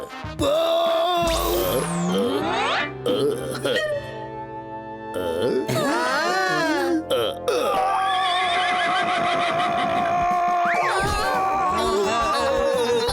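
Cartoon horse neighing in a children's animated episode, several loud, shrill whinnies with rising and falling pitch, interleaved with exaggerated cartoon sound effects and voices talking.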